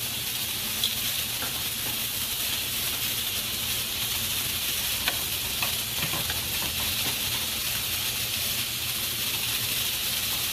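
Sausage frying in a pan gives a steady, close crackling sizzle with scattered small pops, continuous throughout and with no voices.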